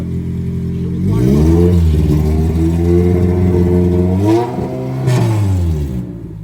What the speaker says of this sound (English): So we're gonna make another pass, see what it makes.